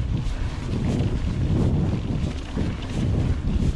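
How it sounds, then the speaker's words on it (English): Heavy wind buffeting a microphone during a mountain bike ride on the Nova Trail at Ashton Court, a loud, steady low roar with gusty swells that runs through the whole stretch. "Oh, it's windy."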